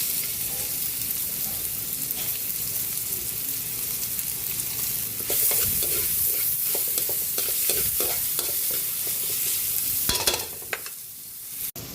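Soup with bok choy being stirred as chopped onion goes into the pot, with a steady bubbling and light sizzle throughout, louder scraping and clinking of the utensil in the middle, and no talk over it.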